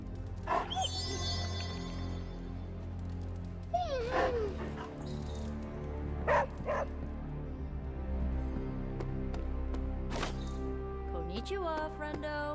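Charlie, a dog in the video game Marvel's Midnight Suns, barks and whimpers in short scattered bursts over steady game music and talk.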